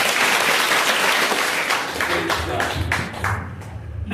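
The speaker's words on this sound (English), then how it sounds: "Shall we give a clap also?" A church congregation at an Easter service in Hong Kong claps in a full round of applause that thins into scattered claps and fades out over a few seconds.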